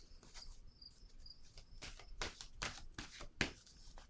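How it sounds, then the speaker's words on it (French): A playing card drawn from a deck, close and fairly quiet: soft papery rustles, then a cluster of sharp flicks and slaps as cards are handled and one is pulled, with a faint steady hiss beneath. "Je vais piger une autre carte ici."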